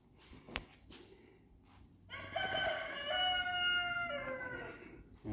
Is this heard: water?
no